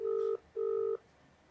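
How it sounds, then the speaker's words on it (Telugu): Two clear DTMF telephone keypad tones, each held about a third of a second with a short gap between, as a number is dialled for a phone call, followed by quiet line hiss. "అనితకి మనం ఫోన్ చేయబోతున్నాం."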